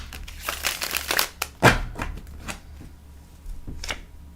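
Tarot cards shuffled by hand in a run of crisp riffling bursts with one sharper slap, moderately close, followed by quieter handling; no talk over it.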